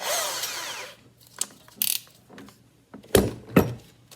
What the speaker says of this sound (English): wood rasp bit, so I'm going to throw it into my my drill here